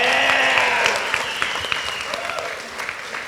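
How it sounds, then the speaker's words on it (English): Wedding guests clapping in a quick round of applause, loud and close at first, then thinning into scattered claps as it fades. "Just a quick round of applause,"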